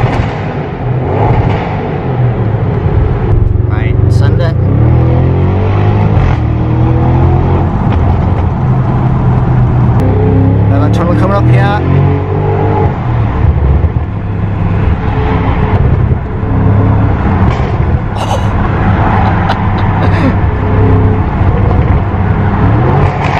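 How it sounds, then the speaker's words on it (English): Audi RS6 estate with 560 brake horsepower and a Milltek exhaust, driven through a road tunnel, its engine droning loudly and steadily with repeated revving swells and gear changes for over twenty seconds, no talking. "So this is an Audi RS6 560 brake horsepower"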